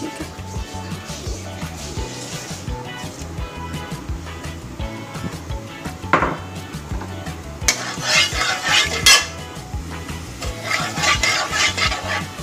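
Crushed cardamom goes into hot ghee in a pan while making semolina halwa, giving a steady close sizzle with stirring and scraping, brief louder crackles midway and bursts of metallic pan clatter toward the end.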